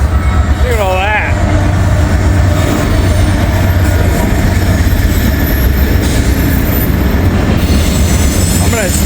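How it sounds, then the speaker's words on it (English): A loud CSX freight train rumbles past close by in Ohio with steady wheel noise and screeching rail squeals, while a person talks briefly over it. "we got another CSX train"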